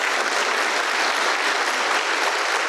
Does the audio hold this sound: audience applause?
yes